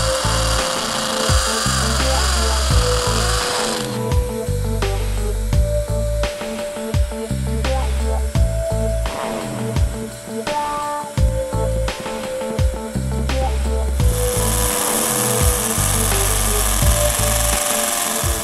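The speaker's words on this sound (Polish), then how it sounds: "zaznaczamy nowy otwór i przystępujemy do wiercenia" A power drill bores a hole to mount an Abus Granit WBA 100 garage anchor. It grinds loudly and steadily for the whole stretch with a rhythmic, hammering pulse, and the pitch shifts slightly as it works deeper.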